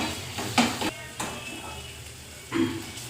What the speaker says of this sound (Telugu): ఇప్పుడైతే కొద్దిగా కలుపుకుందాము